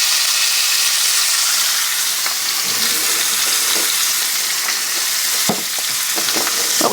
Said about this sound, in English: May as well use the tallow that the hamburgers produced, the fat, to sear my roast here